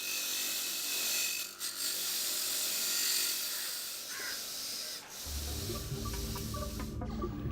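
Seashells are cleaned and polished in a shell factory, a continuous abrasive grinding and rubbing hiss under a low machine drone that grows heavier and rumbling toward the end.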